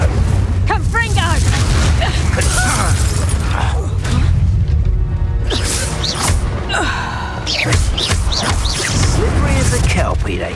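Booming Confringo spell blasts in Hogwarts Legacy, heavy explosive rumbles with shattering crackles layered over dense combat noise and voices, loud throughout.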